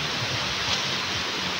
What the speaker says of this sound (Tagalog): Sadyang malakas lang po ang hangin